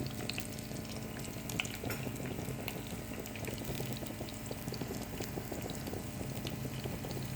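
Half an onion sizzling in hot oil in a pan while making a quick bread-and-egg pizza, a steady soft crackling fry, faint and continuous with no talk.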